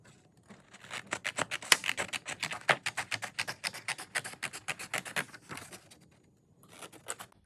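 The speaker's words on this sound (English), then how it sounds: "take your pair of scissors and cut around the outline you created." Rapid, steady snipping and rustling of scissors cutting through paper, close by, in a continuous run that pauses briefly near the end.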